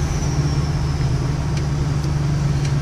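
A 2005 Ford F350 diesel pickup with a MagnaFlow muffler and 4-inch downpipe rumbles steadily and closely, a deep even drone with no clear rise in revs.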